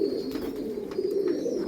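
A male Andhra Fulsira pigeon held in one hand gives a low, continuous coo, close and fairly loud, with faint background noise.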